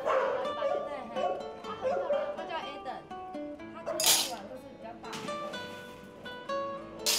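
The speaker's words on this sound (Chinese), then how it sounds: "雅玲在桃园找了一块地，致力于黄金猎犬的救援及送养" Rescued golden retrievers at a rescue and rehoming farm in Taoyuan bark and yip in short, repeated bursts, near and fairly loud, mixed with people talking over them.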